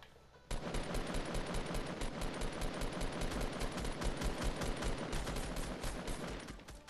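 Continuous rapid gunfire in the Fortnite video game, a dense sustained burst of shots that starts abruptly after a brief quiet moment and carries on loudly to the end.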